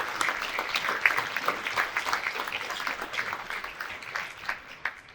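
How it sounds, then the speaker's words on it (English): An audience at an alumni awards evening gives one more round of applause for the award winners, dense even clapping that holds steady and fades slightly at the end. "Can you please join me in one more round of applause for all of our award winners this evening?"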